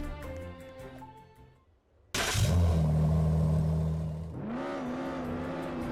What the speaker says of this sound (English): this car has its own engine startup sound